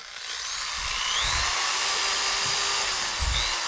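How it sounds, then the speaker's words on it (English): Electric dental drill sound effect: a steady, loud high-pitched whine held throughout, with occasional low thumps underneath and no talking. "Imagine your dentist coming in with a drill that sounds like that."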